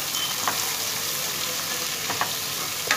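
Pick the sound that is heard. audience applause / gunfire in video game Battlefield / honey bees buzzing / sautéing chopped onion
sautéing chopped onion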